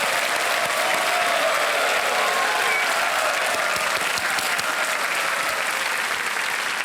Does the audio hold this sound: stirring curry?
no